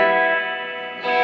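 A Gibson GA-55 RVT tube amp with its reverb turned way up gives a sustained, washy guitar tone that swells and rings on, briefly dips, then surges back louder.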